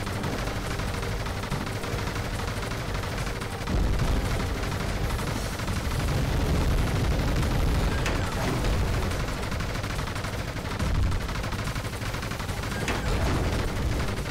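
Rapid-fire shooting in a Panzer Dragoon Remake battle, a continuous, loud wash of overlapping shots and explosions layered over game music and rumble throughout.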